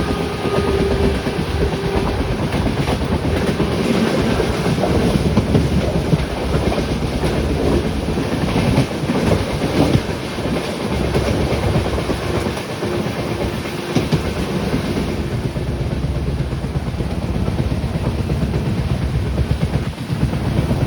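A passenger train rolling slowly toward Guntakal junction on the Bengaluru to Mantralayam route, a continuous loud rumble with rhythmic clickety-clack of wheels over rail joints, steady from start to finish without speech.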